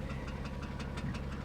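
A Porsche Cayman S engine idles steadily with a light, regular tapping ticking through it, close and constant with no voices.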